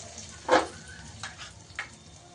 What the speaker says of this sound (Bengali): আমি এই ফোড়নটা এবার এখানে ঢেলে দিলাম।